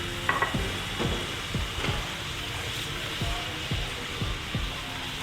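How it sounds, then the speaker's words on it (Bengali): Milk poured into flour sautéed in a pan for a white sauce, hissing and sizzling as a spoon stirs and scrapes in regular, closely spaced strokes. "এবার আমি এর মধ্যে যে দুধটা রেখেছিলাম ওটা দিয়ে দেবো।"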